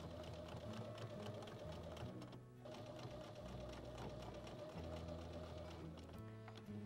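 A sewing machine stitches along the edge of a ribbon for a small bag, a close, rapid rhythmic clatter with brief pauses and restarts, heard alone.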